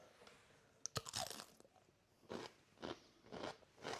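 Someone bites into mini cucumbers and chews them, a sharp crisp snap followed by a run of juicy crunching chews in a loose rhythm. The sounds are close and distinct, with no talking.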